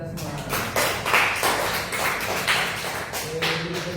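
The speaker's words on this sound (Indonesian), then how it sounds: "Tepuk tangan untuk kita semua" Applause from a class of students in an Indonesian-language lesson on procedure texts, a dense patter of hand claps running steadily throughout, with a voice talking over it.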